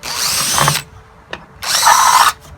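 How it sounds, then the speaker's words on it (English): A power drill bores into wood for a Christmas sleigh decoration in two whining bursts of roughly a second each, separated by a short pause with a faint click. "And this drill is the outer size of the screw itself."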